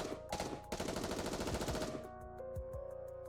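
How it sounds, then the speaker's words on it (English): Rapid automatic gunfire from the video game Goddess of Victory: NIKKE, a dense burst of shots aimed at a Rapture's core, then fading into softer tonal effects. "is promptly assaulted by a hail of gunfire to its core"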